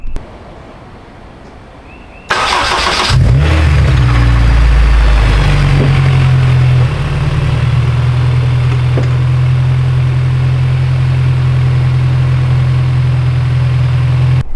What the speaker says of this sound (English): I'm gonna start it, make sure the engine runs